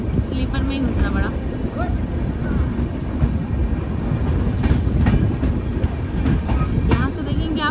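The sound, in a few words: train running, heard from inside the train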